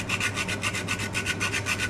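Close, rhythmic scraping as whole nutmeg is rubbed over a grater, about eight quick even strokes in under two seconds with no voices.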